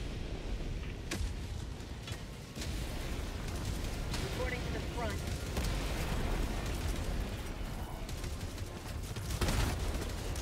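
Artillery barrage in Helldivers 2 pounds away as dense, continuous rumbling explosions with several sharper blasts standing out, loud and sustained throughout.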